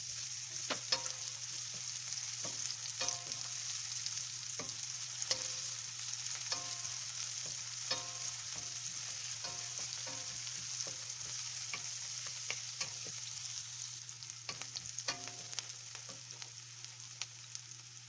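Chopped onion frying in a pan for a ground turkey and shrimp Cajun pasta: a steady, close sizzle with a low hum beneath and occasional scrapes and taps as it is stirred.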